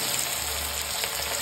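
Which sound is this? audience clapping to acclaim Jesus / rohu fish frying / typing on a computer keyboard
rohu fish frying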